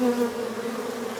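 Bees hum in a steady, close drone at a trap-out hive, one tone slightly wavering throughout, with no voices.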